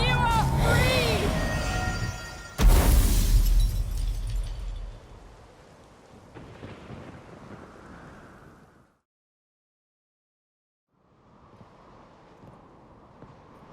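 A thunderstorm in The Witcher 3: Wild Hunt, with a sudden loud thunderclap that rolls into a fading rumble over steady rain, after a voice speaks briefly at the start; a quieter patch of rain returns after a short silence.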